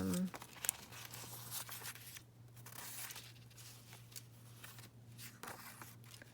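Quiet crinkling and tearing of paper, soft and close, continuing in scattered rips and rustles over a low steady hum, with a voice at the start.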